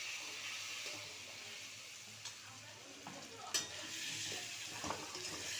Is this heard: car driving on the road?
no